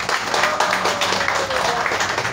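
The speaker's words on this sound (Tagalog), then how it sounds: "Pinakakusog na palakpak si Ginoo." A church congregation gives loud applause to God during a worship sermon, a dense continuous patter of many clapping hands with a faint voice running underneath.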